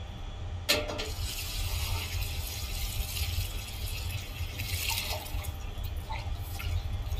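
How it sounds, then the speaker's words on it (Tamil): Water runs and splashes steadily, like a tap filling a bowl, while dried stingray is swished and rinsed in hot water. "கருவாட்டை கழனி தண்ணியில ஊற வச்சதுக்கு அப்புறம் எல்லாம் சூடான தண்ணியில அலசணும்"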